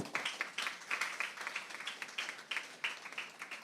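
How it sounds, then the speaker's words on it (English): Applause for a student at a school graduation ceremony, a steady patter of many hands clapping together, fairly faint and continuous throughout. "Let us give Andrea a round of applause."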